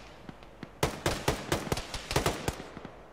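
Gunfire in a ShackTac military game: a rapid, irregular burst of sharp cracks and bullet snaps, close and loud, clustered over a couple of seconds after a few faint earlier shots.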